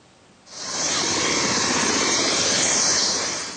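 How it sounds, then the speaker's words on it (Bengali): A private helicopter landing on the Kashimpur prison school field: after a quiet start, a loud, broad rotor and engine roar swells in and holds steady, close by, with no talk. "কাশিমপুর কারা স্কুল মাঠে হঠাৎই হেলিকপ্টার অবতরণ"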